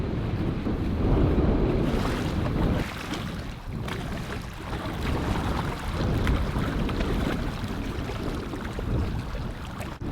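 Strong wind and waves on Thomas Lake in the Boundary Waters while paddling, a continuous loud roar of gusting wind over the microphone and lapping water, with no voices.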